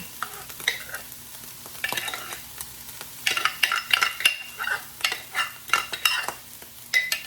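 Homegrown vegetables for stir fry being stirred in a pot with a utensil, producing a series of close scraping and clattering strokes over a faint sizzle, coming quicker and louder toward the end, with no speech.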